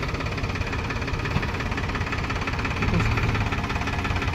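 Mahindra Bolero engine running off-road below a highway, a steady broadband rumble with slight rise partway through, continuous and fairly close, with no talk.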